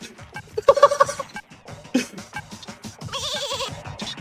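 Sheep in The Simpsons: Skateboarding video game give loud, wavering bleats in short bursts, ending in a long, quavering call, with brief clattering game sounds between them.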